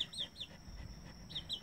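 A chicken clucks softly outdoors on a grassy farmyard, a few short, repeated calls spaced apart and fairly faint against a quiet background.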